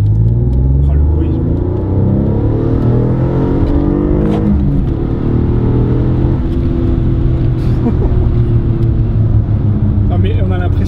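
A V6 car engine pulls hard under acceleration while driving, a loud low rumbling roar with rising pitch sweeps, recorded from inside the cabin with a person talking over it.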